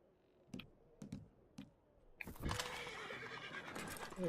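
In Red Dead Redemption 2, three sharp hoof or tack clicks come first, then a loud, close horse neighs and whinnies with a rough breathy snort that carries to the end.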